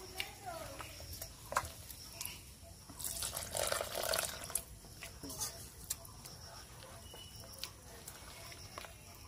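Water trickles and splashes softly into a bowl of malpua batter containing semolina, faint and intermittent, with a few clinks and a person speaking quietly in the kitchen.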